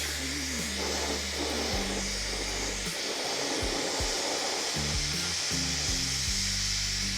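A joint between rocket stage sections being welded, giving a steady, close sizzling hiss that runs throughout under a low, stepping musical tone, with no voices.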